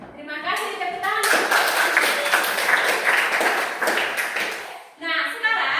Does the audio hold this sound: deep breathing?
no